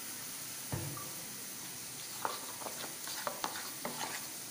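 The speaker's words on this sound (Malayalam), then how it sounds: "ഇനി ഇത് നന്നായിട്ടൊന്ന് മിക്സ് ചെയ്യുക" Cornflour, soy sauce and tomato sauce get stirred together in a bowl, with soft, irregular spoon scrapes and light clinks close by over a quiet background.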